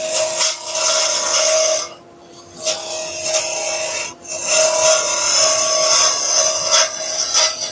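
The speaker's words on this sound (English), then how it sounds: "So I'm going to go with the bowl gouge again." A sharp bowl gouge shaping a wood bowl on a lathe, with a steady close rasping, scraping cut that pauses briefly twice and then resumes.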